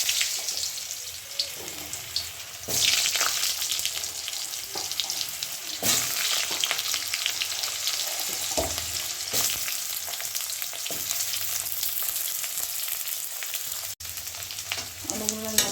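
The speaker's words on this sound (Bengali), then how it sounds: "আলুগুলো ভেজে নিয়ে" Potato pieces fry in a pan with a continuous close sizzle, broken by frequent scraping stirs and the odd louder clatter.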